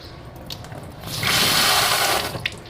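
Water runs from a tap into an RO pre-filter housing during a home filter wash, a steady rushing gush swelling loudly for a couple of seconds amid light plastic clicks.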